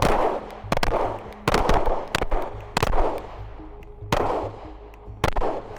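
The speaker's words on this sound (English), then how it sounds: "I'm gonna shoot a group on the left side of this right target." Six sharp pistol shots from a Glock 19 clone fired at a target, spaced irregularly about a second apart, each loud crack close by and trailing a short ringing decay.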